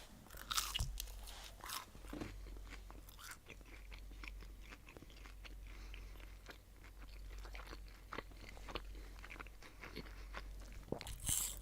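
Crisp crunching bites and wet chewing of spicy McDonald's McNuggets, close and loud, with repeated crackly bites over several seconds and no talking.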